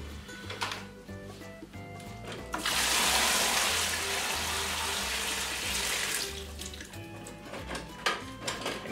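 Aquarium water pours into a bucket during a tank and filter cleaning, a steady, fairly loud rush of splashing water in the middle stretch, with quieter clinks and rustles before and after and no talk.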